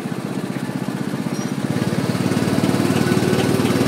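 A go-kart engine buzzes with a rapid, pulsing putter on a go-kart track, growing louder as the kart draws nearer, with no talking.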